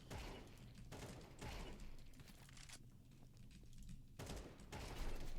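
Rapid bursts of automatic gunfire from a Counter-Strike 2 match, several loud sustained volleys broken by short pauses, with faint game background between them.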